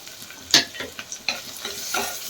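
Ginger garlic paste and onions being sautéed in a pan for country chicken soup, with a sharp stir or scrape and then a few softer stirring scrapes over a faint sizzle.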